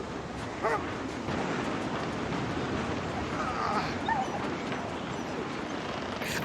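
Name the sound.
dog whimpering and barking in a TV show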